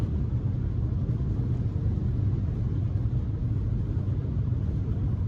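A BMW 320d braking on the autobahn gives off a steady, low cabin rumble of road and engine noise, even and unbroken, with no one talking.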